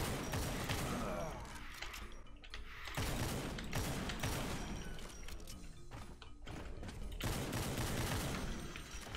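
Dense, continuous bursts of gunfire and explosions in DOOM II with the Project Brutality mod crowd the whole stretch, with heavy thuds and crackling blasts layered into a loud, chaotic battle din.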